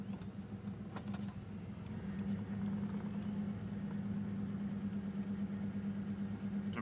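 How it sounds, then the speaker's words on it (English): A car engine with a faulty ALDL diagnostic connector idles steadily at about 1,000 RPM, a continuous near hum whose level rises slightly partway through and then holds even. "engine running a little better"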